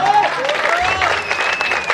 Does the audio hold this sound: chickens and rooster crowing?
no